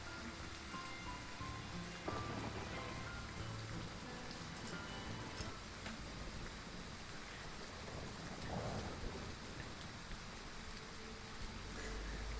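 Steady rain sound effect from the Girls' Frontline video game, a continuous dense patter of drops on a surface that keeps looping without pause, with a faint low rumble underneath.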